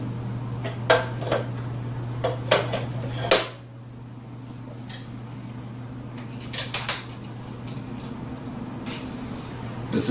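Filter cubes click into place as an Olympus BX41 fluorescence microscope turret is turned, a series of small metallic ticks and clacks over a steady low hum that stops partway through.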